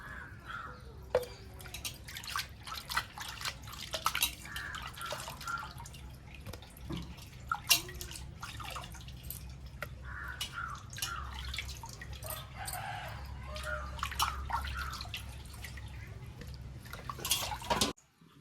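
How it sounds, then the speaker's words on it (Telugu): Fish pieces being rinsed in a vessel of water for an Andhra-style fish curry, with repeated splashing, dripping and sloshing close by, and scattered clinks throughout against a low background hum. "వాటర్లో శుభ్రంగా నాలుగైదు సార్లు క్లీన్ చేసుకోవాలి"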